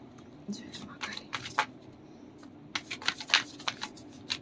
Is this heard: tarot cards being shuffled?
yes